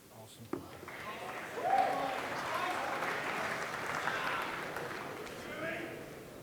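Large crowd of about 2,000 spectators applauding at the Mosconi Cup pool event, steady sustained clapping that swells and holds throughout, with a few sharp knocks near the start.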